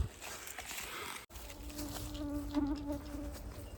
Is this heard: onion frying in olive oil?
no